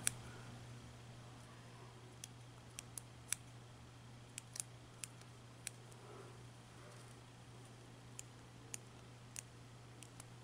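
Scissors snipping little pieces of material for mermaid Halloween makeup: a dozen or so quiet, crisp snips come at irregular intervals over a low steady hum, close by and isolated.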